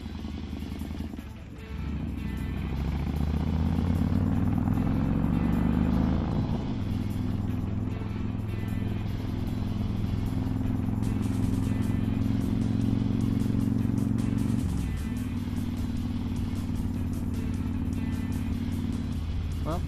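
Motorcycle riding at about 30 miles an hour, engine pitch climbing through gear changes with steady drone and wind noise between shifts, heard close from the bike.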